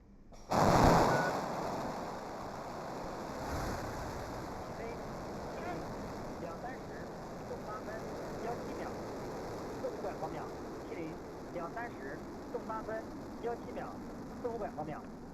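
Shenzhou 15 crewed rocket launch to the Tiangong space station: a sharp blast at ignition settles into a sustained, distant, low rumbling roar, with a commentator speaking over it.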